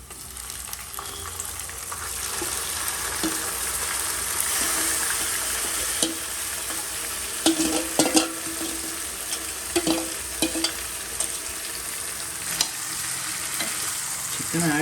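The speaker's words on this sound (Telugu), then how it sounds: "సో ఇప్పుడు మనము ఈ చికెన్ యాడ్ చేసుకుందాం ఆయిల్లో." Marinated chilli chicken frying in hot oil, with a steady loud sizzle throughout and scattered sharp spatters and utensil scrapes as the pieces are stirred.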